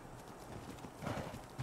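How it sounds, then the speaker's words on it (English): Horse hooves clip-clopping with a brief whinny in ARK: Survival Ascended, Aberration map, heard faintly in a game scene; a louder burst of hoofbeats rises near the end. "Ah, oh, that damn horse."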